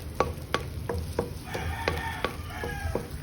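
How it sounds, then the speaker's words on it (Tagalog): Garlic, onions, tomatoes and spring onions sauté in a pan, with a soft sizzle under a series of sharp clinks and scrapes from stirring, fairly quiet and close. "saute the garlic, the onions, and then the tomatoes, and then the spring onions"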